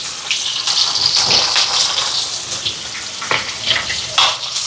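Onion, green chili and garlic with fennel sauté in hot oil for a chicken curry, a close, loud sizzle with frequent stirring scrapes and bursts of spitting throughout.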